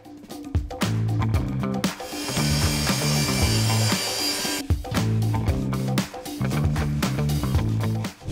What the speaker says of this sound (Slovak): Túto štrbinu teraz orežeme, opäť využijeme ponornú pílu.